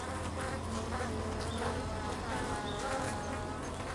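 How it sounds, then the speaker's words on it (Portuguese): Honeybees vibrate their wing muscles while clinging around a wasp, making a steady, dense buzzing drone that stays loud and unbroken throughout. "Vibrando os músculos de suas asas, as abelhas estão cozinhando a vespa."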